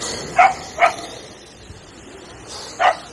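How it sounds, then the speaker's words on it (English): A dog barks on an oyster shell beach: three sharp yelping barks, two close together and one after a pause, moderately near over quiet outdoor ambience. "Oh, dog's going crazy."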